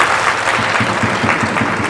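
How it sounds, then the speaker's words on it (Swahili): A crowd at a stadium event celebrates a Yanga championship with steady, dense applause, a continuous wash of clapping that stays even in loudness throughout. "Naomba tumpigie makofi sana."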